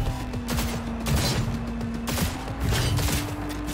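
Gunfire in Cyberpunk 2077: rapid bursts crackle repeatedly over a steady droning engine hum, loud and close, with no voices.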